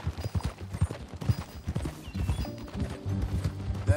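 Horse hooves clop at a brisk gait while a rider travels in the Red Dead Redemption 2 video game, rhythmic thuds with creaks and tack jingle at moderate loudness, no talking.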